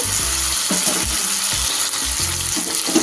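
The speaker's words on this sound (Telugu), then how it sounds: "ఇలాగే మధ్యలో కలుపుతూ ఉండాలండి. అప్పుడే చక్కగా వేగుతాయి పీసెస్ అన్నీ కూడా మనకు." Vegetable pieces for veg biryani fry in hot oil, a steady loud sizzle throughout with repeated low scraping thuds as they are stirred in the pan.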